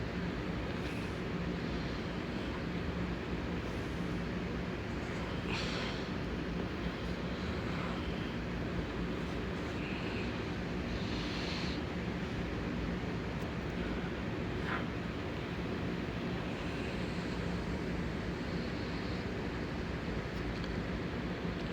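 A plane in a Roblox flight simulator game flies with a steady, even engine and wind drone, constant and unbroken for the whole stretch with no talk.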